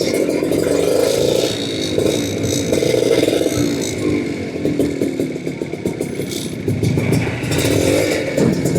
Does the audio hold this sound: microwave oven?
no